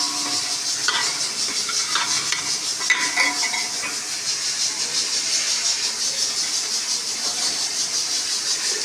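Spices such as chaat masala, salt and red chili being stirred into tamarind water for white chana chaat, a steady scraping, swishing stir with a faint hiss, close and continuous with no talk.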